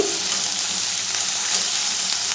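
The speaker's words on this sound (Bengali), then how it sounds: "ভালো করে নেড়ে চেড়ে ভেজে নেব।" Young jackfruit pieces fry in hot oil in a pan while being stirred, giving a continuous loud sizzle with soft scraping throughout.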